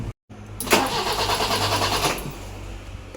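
A BMW E30 with an M10 engine cranks after a brief silence, the starter churning roughly for over a second before fading back toward a low rumble.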